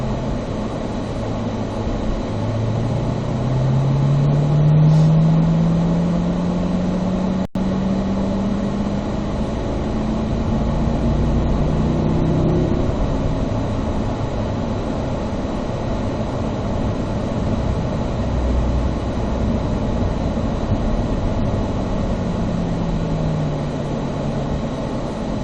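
A Corvette rolls through a slow, easy cool-down lap on a race track, its engine droning low and steady with smooth rises and falls in pitch. A single brief click cuts in partway through.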